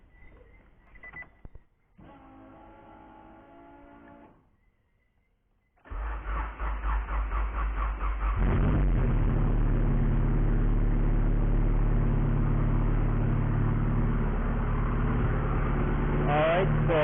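A Honda Civic is started: a few beeps and a cranking stutter come first, then the engine catches and settles into a loud, steady, close idle. Speech is also present in the clip.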